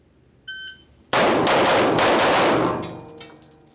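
A CZ75-platform competition pistol fires a rapid string of shots in a transition drill, loud and close, after a short start-signal beep, with echoing decay at the end.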